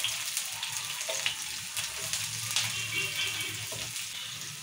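Onions and green chillies frying in hot oil in a pan, a dense continuous sizzle with crackling pops throughout, close and fairly loud, no talking.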